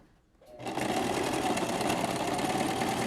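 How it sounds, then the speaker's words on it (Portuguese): A sewing machine runs steadily, stitching the second side of a fabric pencil case. It starts after a brief quiet moment and then holds a continuous, close, fairly loud whir to the end. "Você vai trazer na máquina e costurar o outro lado."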